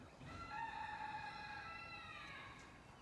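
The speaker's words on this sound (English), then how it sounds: "Chicken coop." A rooster at a farm chicken coop lets out a single drawn-out crow, faint and somewhat distant, over low background noise.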